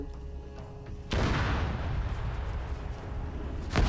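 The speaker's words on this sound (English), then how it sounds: "I'm trying to throw some grenades around" Grenade blasts in a military video game: a sudden loud boom rolls into a long rumbling decay, followed near the end by a second sharp explosion.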